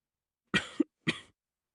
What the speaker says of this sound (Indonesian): Davina mulai terbatuk-batuk.